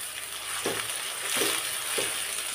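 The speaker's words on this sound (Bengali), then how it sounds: "এগুলো ভালো মতো ভাজি করে নিতে হবে।" Onion, cardamom, cinnamon and bay leaf frying in a pan make a constant hissing sizzle, with three soft stirring swishes rising over it, close and without voices.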